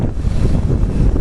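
Strong hurricane wind gusts batter the microphone on the coast near moored lobster boats, a dense, continuous roar of buffeting noise with no pauses.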